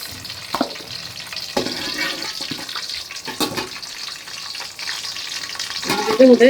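Bay leaves and whole cardamom fry in hot oil with a steady crackling sizzle, punctuated by a few brief bursts of clatter, and a short tonal sound appears at the very end.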